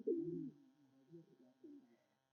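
Soft, low pigeon coos sound close by on a rooftop, from pigeons being prepared for flying contests, a longer rolling call followed by a few quieter murmured coos, then fading to silence.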